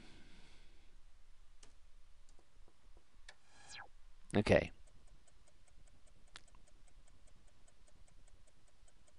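Steady ticking of a loud clock in the puzzle video game The Room 2, with regular clicks running through the stretch, a burst of louder clatter in the middle and a brief spoken word.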